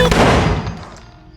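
A loud gunshot from a film scene cracks and then rings off into a decaying echo, fading over about a second.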